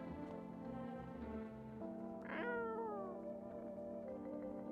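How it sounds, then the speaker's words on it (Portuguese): Cat meows sound near and clear over steady tonal background music, one drawn-out rising-then-falling call in the middle, with no talking. "Será que o gato é alienígena ou é a porra da mulher que entrou,"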